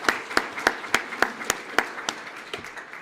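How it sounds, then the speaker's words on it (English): Sparse, steady clapping with sharp, evenly spaced claps, like a small audience applauding at a measured pace at a police swearing-in and promotion ceremony, fairly close. "let's give him a big round of applause for his support"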